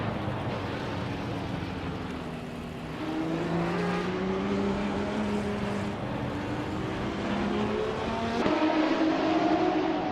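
Racing game engines, including a Ferrari 512 and a 1971 Porsche 917 LH, roar continuously nearby, the pitch sliding up and down through gear changes and shifting sharply near the end, loud and without any talking.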